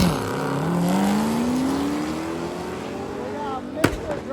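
A Corvette ZR1 with a stick shift races down the right lane of a drag strip, its engine climbing in a long rising rev that builds loudly before a sharp burst near the end, with a voice talking over it.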